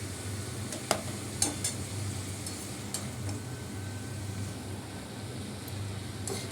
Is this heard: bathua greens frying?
yes